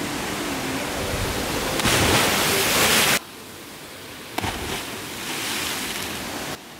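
Close, loud rushing water at a waterfall used as a cliff-jumping spot in Pazin, Croatia, a broadband roar that cuts in and out in bursts, with no one speaking.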